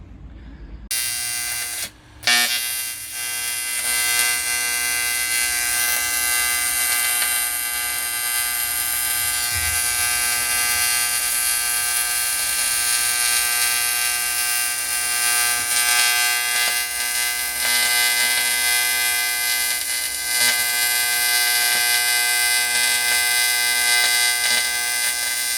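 A TIG welder joins aluminium tubing on a cargo bike frame, making a loud steady electrical buzz with a whining hum. After a brief start it runs without a break, close and unbroken.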